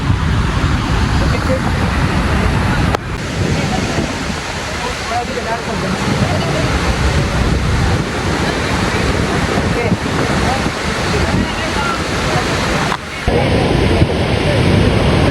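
Kalu waterfall at Malshej Ghat in the monsoon roars as a loud, constant wash of falling water that fills the whole stretch, with wind buffeting the microphone and a couple of brief dips.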